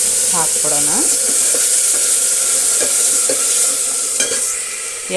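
Loud, constant sizzling of hot oil tempering as greens hit the pan for sambar, with occasional stirring clatter and a brief voice in the background.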